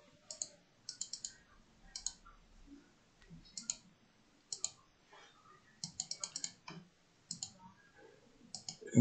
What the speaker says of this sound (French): je clique dessus chez moi